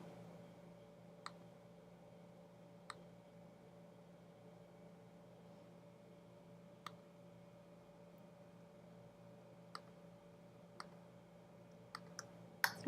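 Computer mouse clicks while files are selected for upload, sparse sharp single clicks spaced a second or more apart, close and quiet over a steady low hum, with a quick cluster of clicks near the end.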